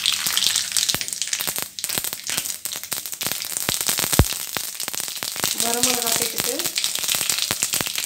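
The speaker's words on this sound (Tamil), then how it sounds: "இப்போ நான் நல்லெண்ணெய் சேர்த்துக்கிறேன். எண்ணெய் காயட்டும். கடுகு சேர்த்துடலாம்." Mustard seeds pop and crackle in hot sesame oil while village-style puli sundal is cooked, a dense, continuous sizzle with sharp snaps throughout, close up, and a voice briefly audible partway through.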